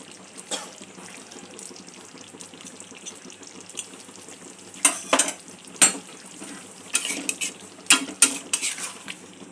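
Paneer lababdar being stirred in a pan with a utensil, a soft simmering bubble underneath and several sharp scraping, clinking strokes growing busier toward the end, close and alone with no voices.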